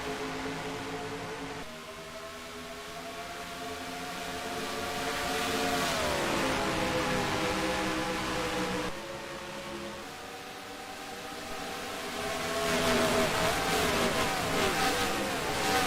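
A field of race cars accelerates at Homestead, Miami on the green flag, engines rising in pitch through gear changes as they roar past, loud and continuous without talk.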